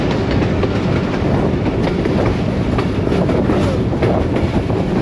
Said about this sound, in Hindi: Rawalpindi passenger Taxila cantt junction railway station पे अप्रोच कर रही है।